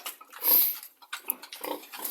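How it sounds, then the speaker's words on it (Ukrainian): Piglets on a small farm grunt in short bursts as they feed at an evening meal, loud and close, with several overlapping snorts and a brief high squeal; no one talks. "Ще будуть жити наші поросята."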